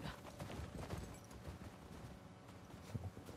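Rapid hoof clip-clops from a galloping horse in The Last of Us Part II, moderately close and continuous over game ambience, with no talk.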